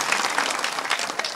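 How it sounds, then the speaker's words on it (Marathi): Audience applause at a political rally in Maharashtra, a dense steady burst of clapping from a sizeable crowd, loud and continuous throughout with no speech over it. "सगळ्यांनी खरोखर मनापासून टाळ्या वाजवून त्यांचा आभार माना"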